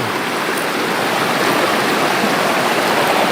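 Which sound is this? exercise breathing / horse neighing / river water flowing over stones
river water flowing over stones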